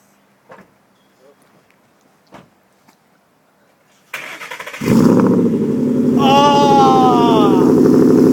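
Ford Mustang GT V8 starting up after a few quiet clicks, catching with a loud burst and settling into a strong, close, rumbling idle with rising revs, a voice briefly heard over it.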